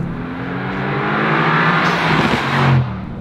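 A Mercedes-AMG GT R makes a launch start, its engine roaring loud and close as the revs climb steeply over about three seconds and then drop off as it changes gear.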